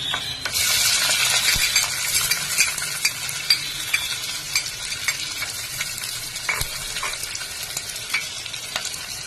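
Curry leaves, lentils, onion, mustard seeds, cumin and green chilli frying in hot oil for a zucchini curry, with a close, bright crackling sizzle and frequent metallic clicks and scrapes of a stirring spoon.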